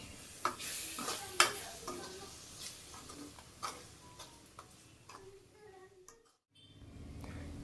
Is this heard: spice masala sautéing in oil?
yes